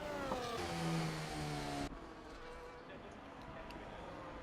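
Race car engines from a racing video game in a league race at Barcelona, revving with harmonic whine through the opening seconds, then dropping to a steady, fainter drone as commentators talk over it.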